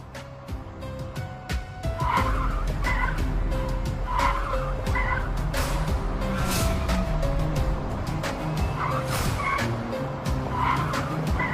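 A car skids to a stop in a crime drama scene, with a long, loud squeal of tires and engine roar that holds steady for several seconds under a dramatic backdrop.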